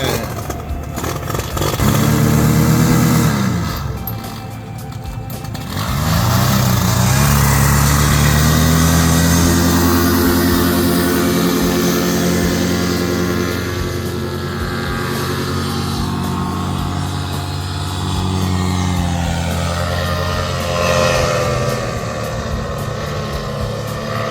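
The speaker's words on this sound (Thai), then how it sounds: "เนี่ยกำลังจะ ขึ้นบินนะครับผม" A light propeller aircraft's engine drones at an airfield before takeoff, rising and swelling in pitch and loudness over a long stretch, heard fairly close and without speech.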